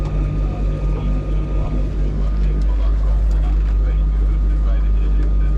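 An outboard-driven boat fitted with a Brunto propeller runs under power, producing a loud, continuous low engine drone with a churning rumble that stays steady and near.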